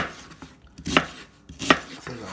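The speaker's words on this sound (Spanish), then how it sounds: "Voy a echarle la cebollita. Vamos a cortar en pedacitos." A knife chops an onion into small pieces on a board in a home kitchen, giving a few sharp, separate cuts with quiet pauses between them, close by and with no voices.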